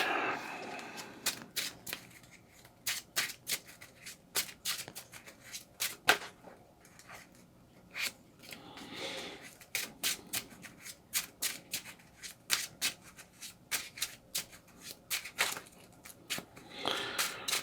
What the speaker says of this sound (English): Messy shuffling.